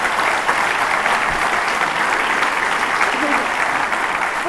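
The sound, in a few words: audience applause at a conference talk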